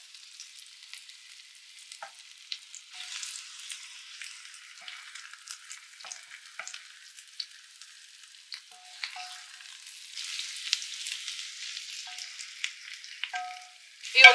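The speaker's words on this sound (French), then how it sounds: "je retourne de temps en temps mes boulettes pour qu'elles cuisent." Meatballs frying in a pan, giving a quiet, sparse crackle and spatter of small pops that thickens slightly toward the end, with no voices.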